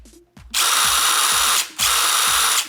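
Compact mini impact driver powered by a DeWalt battery runs in two loud, close bursts, a dense buzzing whir with rapid hammering, separated by a brief pause.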